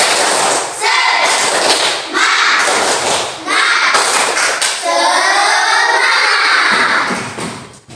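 A classroom of children does a rhythmic spirit clap, patterned bursts of hand claps and thumps mixed with kids' chanting voices, loud and close throughout.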